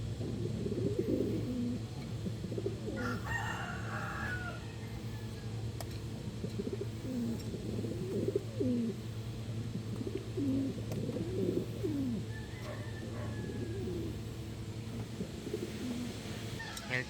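A pigeon coos repeatedly in low, soft phrases against a steady background hum, with faint chirps now and then.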